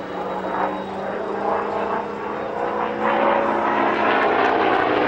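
A Bristol radial-engined propeller aircraft flies past at an airshow, its steady droning engine roar loud and continuous, swelling slightly toward the end with a low buzzing hum underneath.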